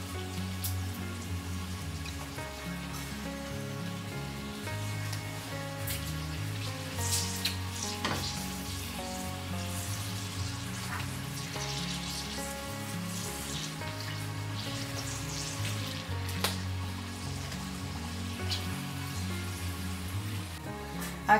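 Chicharras (pork cracklings) frying in hot oil in a wide pan, a steady crackling sizzle with scattered pops running throughout, close and continuous, alongside a low background hum.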